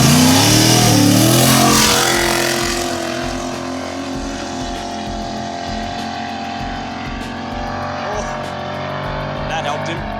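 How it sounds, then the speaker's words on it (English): Cars launching from a roll in a Hoonigan This vs. That roll race, an AU Falcon among them, with engines roaring loud and close at first, then easing into a steadier, more distant drone. "Going for a roll race this time to give him a bit of warning."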